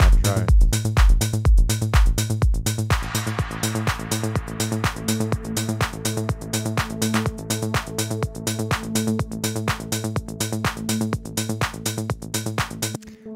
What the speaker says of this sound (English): Now maybe we bring in that drone.